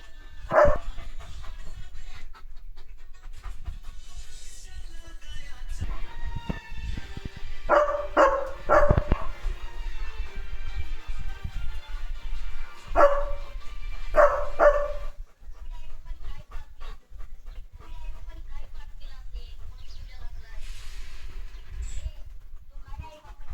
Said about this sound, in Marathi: लिओवरती तोंड करून भुंकतोय